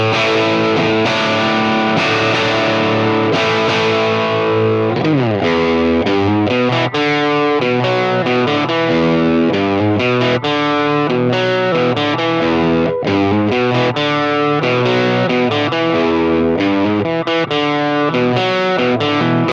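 An electric guitar played through a Monoprice Stage Right 15 tube amp with the tone knob turned fully up gives a bright, crisp, overdriven tone, strummed chords and quick riffs continuing loud and steady for about twenty seconds.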